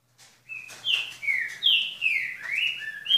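A female trinca-ferro (saltator) at a breeder's aviary gives a run of loud, clear whistled calls, several rising and falling phrases in quick succession, close by with no talk.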